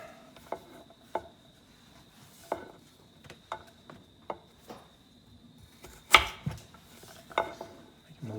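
A knife chops sweet potatoes on a cutting board in a kitchen, a dozen or so sharp, close taps at an uneven pace with one louder knock near the end, no talk.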